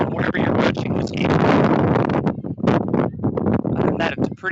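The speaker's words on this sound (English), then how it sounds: "Windy, as I'm sure you'll hear in the speakers that you're on wherever you're watching this game" Wind buffets a microphone outdoors at a women's college soccer game, loud rumbling gusts pressing close over a commentator's voice talking through it.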